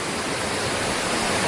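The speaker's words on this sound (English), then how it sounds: "With the waterfall." A waterfall roars steadily on a hiking outing, a loud, dense broadband rush of falling water that holds constant throughout with no voices.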